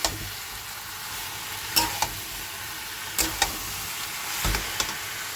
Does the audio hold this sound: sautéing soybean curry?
yes